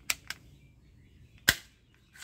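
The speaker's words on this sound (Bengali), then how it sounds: "আর এই শটগানটা আমি ফায়ার করবো দেওয়ালের সাথে" A toy shotgun fires against a wall, a few sharp, loud cap-gun-like pops: two quick ones close together, a pause, then a strong bang and another at the end.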